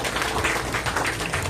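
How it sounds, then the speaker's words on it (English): Applause from an audience at a ceremony announcing selected players: dense, steady clapping from many hands that continues throughout at moderate loudness. "let's please give them a big round of applause for a valuable effort"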